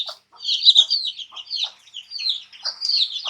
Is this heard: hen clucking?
yes